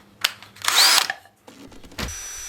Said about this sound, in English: then we'll drill a hole in the middle of this